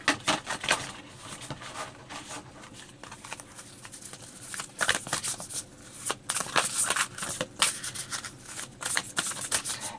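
Tarot cards riffle and slap in repeated bursts of shuffling, then are drawn, with soft papery flicks between the louder runs.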